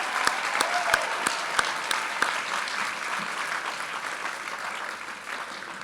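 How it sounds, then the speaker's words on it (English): A graduation ceremony audience at Purdue breaks into applause, with a few sharp, distinct claps standing out early before the clapping settles into an even, moderately distant patter that slowly thins toward the end. "let's acknowledge this honor that he's receiving with a round of applause."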